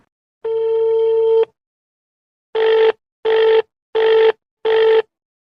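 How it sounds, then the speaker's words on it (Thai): A phone call being placed: one long ringback tone, then four shorter evenly spaced tones after a pause, loud and clear with no voices. "ผมก็กดโทรศัพท์ โทรหารายชื่อที่ถูกเวนมาไว้ว่าแฟน"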